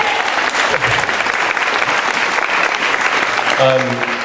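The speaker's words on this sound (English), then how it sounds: "I think we should all just give her a quick round of applause because she's been amazing today." Wedding reception guests break into a full round of applause, dense sustained clapping from a crowded room that carries steadily throughout, with a few voices mixed in near the end.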